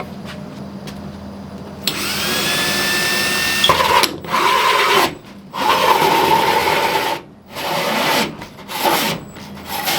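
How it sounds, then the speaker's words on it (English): A power drill bores holes in drywall, whirring in several bursts of grinding, rasping noise separated by brief pauses, close by, with no talking. "And then we'll just drill those out"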